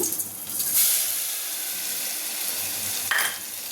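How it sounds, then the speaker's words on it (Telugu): Masala spice mix frying lightly in hot oil for a drumstick and tomato curry, a steady close sizzle and hiss with faint stirring scrapes, no talking. "ఈ మసాలాని మనం ఆయిల్లో లైట్గా వేయించాలి అప్పుడు చాలా బాగా టేస్ట్ వస్తుంది"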